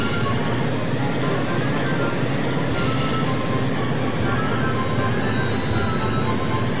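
Harrier jet engine in the Eagle One Harrier Attack video game, a steady dense roaring whine with a high tonal line, continuous and loud with no change across the stretch.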